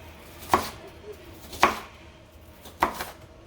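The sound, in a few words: knife rough-chopping an onion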